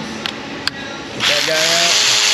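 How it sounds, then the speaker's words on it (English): A power tool spins out Torx bolts on a supercharged Land Rover Range Rover 5.0 V8 during a spark plug job, starting after a couple of faint clicks and then running as a steady, fairly loud whirring whine that rises in pitch. "Let's get in there and get these Torx bolts removed and then we'll sneak these coils out."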